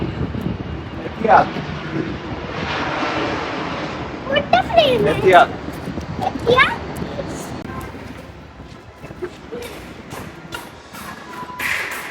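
An airplane roars overhead as a broad, steady engine rumble, with people and someone talking nearby, at Warner Bros. World Abu Dhabi.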